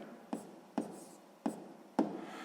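Pen strokes scratch on paper while a math answer is written down, four quick, distinct scribbles spaced about half a second apart, close and quiet.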